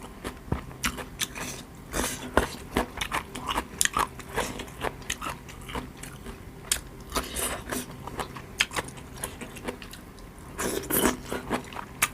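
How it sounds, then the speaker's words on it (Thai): Chewing khanom jeen rice noodles with fish-kidney curry and crunchy fresh vegetables, close and intimate: steady crisp bites and crunches with wet mastication throughout, growing denser near the end, no talking. "กินกับผักกาดนกเขาอร่อยมาก"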